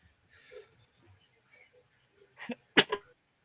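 A sharp sneeze bursts out after a few quiet seconds of faint background murmur, loud and close, with a brief trailing breath.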